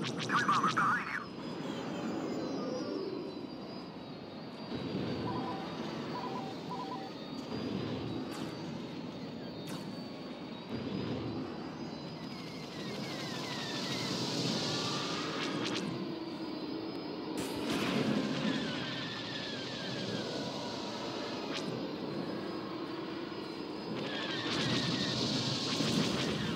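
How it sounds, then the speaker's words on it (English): Dive bombers roaring overhead in Star Wars Battlefront II, a sustained engine rumble with swelling whooshes of passing craft and distant blasts beneath a busy battle soundscape. "Dive bombers behind you!"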